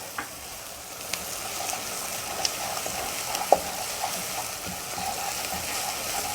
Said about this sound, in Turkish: salçamızı ilave edelim. Salçayı da kavuracağız.